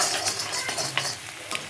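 Hard-boiled eggs fry in a pan with turmeric and chili powder, giving a steady sizzle broken by a few sharp pops and spatters at close range, with no talking.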